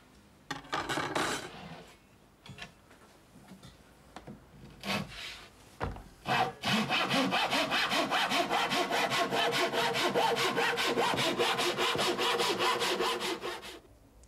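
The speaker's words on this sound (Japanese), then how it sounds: "まず板を必要な長さに切っていく木取りの作業が始まります。" A Japanese handsaw cuts wooden boards to length in an Edo sashimono joinery workshop: a few scattered strokes at first, then a long, steady, rhythmic run of loud, close rasping saw strokes.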